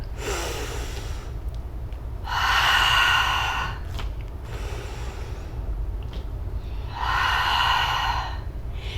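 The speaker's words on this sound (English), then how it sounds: "Exhale as we push the breath out." Slow yoga breathing during an anxiety-relief class: two long, forceful exhales pushed out through the nose and mouth, each about two seconds, close and clear over a low steady background hum, with softer inhales between.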